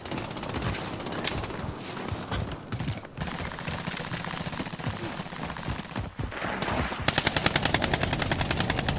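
Gunfire in Call of Duty: Warzone, with dense, rapid automatic bursts and single shots crackling almost nonstop, some close and loud, others more distant, under faint voices.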